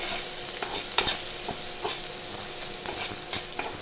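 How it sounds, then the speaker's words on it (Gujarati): Onions with a little turmeric and chilli sizzle in a pan while being stirred, a steady frying hiss broken by soft scraping stir strokes throughout, close and fairly loud with no talking. "આવી રીતના 2-3 મિનિટ હલાવતું રહેવાનું."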